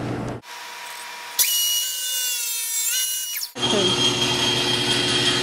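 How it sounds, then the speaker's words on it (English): A power drill boring countersink holes into wooden stretcher bars for a canvas support, a sustained high whine with a rising then settling pitch, close and loud amid workshop noise. "putting countersink holes for the two screws we're going to have in each corner"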